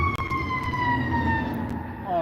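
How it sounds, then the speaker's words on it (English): Fire engine siren wailing past outdoors on a hot day, its rising and falling tone steady and fairly loud over background noise. "Oh, there must be a fire. That was a fire engine."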